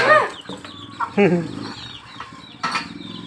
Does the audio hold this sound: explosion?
no